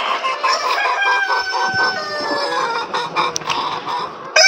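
Chickens in a poultry farm on a winter morning: a rooster crows loudly and repeatedly over a busy chorus of clucking hens, close and continuous throughout.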